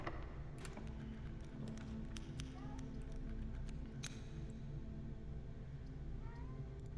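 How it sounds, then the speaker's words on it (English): An agitated cat meows a few short, ornery calls at a distance, faint against a steady low hum and scattered clicks. "I can hear my birthday cat being real ornery."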